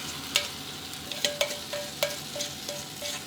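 Beaten eggs with climbing wattle frying in a hot pan, a steady sizzle punctuated by repeated sharp scraping and stirring clicks from a utensil against the pan, close up.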